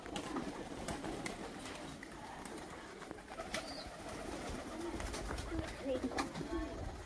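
Domestic pigeons, more than fifteen of them, coo softly in a village setting, low murmuring calls near and far under an outdoor background with some voices.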